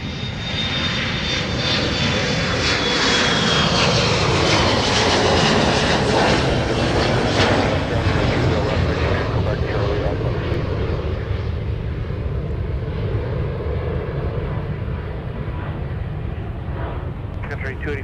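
A Sun Country jet airliner on runway 30 left at Minneapolis–St. Paul airport gives a loud, sustained engine roar that swells and slowly fades across the whole stretch, with a tower radio call and a voice talking over it.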